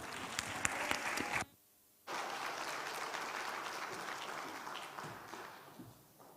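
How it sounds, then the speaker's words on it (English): An audience at a diplomatic course event on the Sudan armed conflict gives Rizky Utama a round of applause. Dense clapping runs throughout, broken by a brief near-silent dropout early on, then tapers slightly toward the end. "So please clap your hands for Mr."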